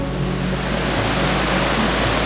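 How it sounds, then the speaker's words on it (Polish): A small branch of a waterfall in a boreal forest in Norway in early spring rushes steadily as a broad, close, even wash of water noise without pause. "Widzicie, tutaj płynie taka mała odnoga wodospadu."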